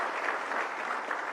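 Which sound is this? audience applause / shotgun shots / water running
audience applause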